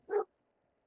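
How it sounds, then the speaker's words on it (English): A single short dog bark from outside, heard alone and followed by near silence. "That's a dog outside."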